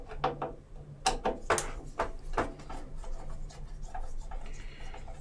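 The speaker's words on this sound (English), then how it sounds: "So let's get these screws out first." Screws are worked out of a tilting belt machine on a workbench: a close series of short, scraping rubs in an uneven rhythm, fading to quieter fiddling sounds toward the end, with no speech.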